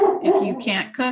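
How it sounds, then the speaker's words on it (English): A dog barks and yips in the background of an online meeting, short sharp bursts mixed in with a person talking over it. "I'm sorry if you hear my dog going off."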